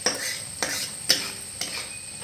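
Spices and salt being stirred around in a pan, with a few sharp scraping strokes standing out over a soft, steady sizzle.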